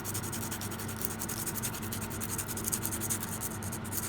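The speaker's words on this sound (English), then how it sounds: "so I'll go over that with a bit of sandpaper" Sandpaper rubbed by hand over a prepared fossil to smooth out tool marks, a steady, close, continuous scratchy hiss with soft repeated strokes and no speech.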